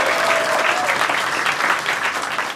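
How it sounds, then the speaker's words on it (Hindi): Friends clap loudly and steadily for a couple celebrating their 37th wedding anniversary, a close, continuous burst of applause lasting a couple of seconds with no talking. "एक बार जोरदार तालियां दोस्तों"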